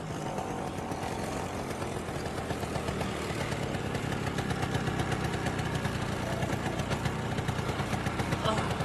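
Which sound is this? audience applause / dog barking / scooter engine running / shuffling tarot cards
scooter engine running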